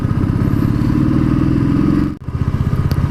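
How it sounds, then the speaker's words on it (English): A motorcycle engine rumbles close by with a steady, throbbing drone, briefly cutting out before chugging back in a slower rhythm. "Hey, check it out, nice bike, Ninja 650."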